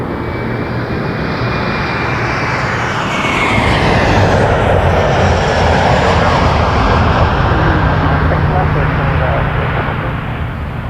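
Airliner engines roar steadily at Toronto Pearson Airport, a loud, continuous broadband rumble and whine that swells slightly midway, heard from nearby on the ground without pause.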